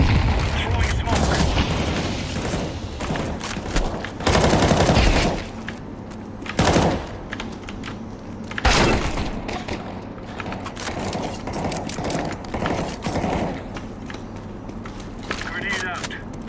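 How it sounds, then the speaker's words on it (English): Counter-Strike 2 match with bursts of gunfire and several loud grenade blasts, each blast swelling briefly over a steady, dense background of in-game action and footsteps; a voice speaks over the combat throughout. "Incendiary. Throwing a grenade. Throwing smoke."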